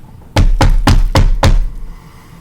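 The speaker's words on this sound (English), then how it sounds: "I guess I'll knock. Knock on the table so it hears." Five sharp knocks on a table in a steady, evenly spaced rhythm, close and loud, each with a short ringing decay, followed by quiet room tone.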